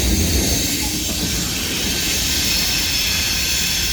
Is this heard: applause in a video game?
no